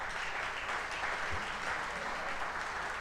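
Steady, dense audience applause after a football catch, a continuous crowd wash of clapping at even level throughout with no talking.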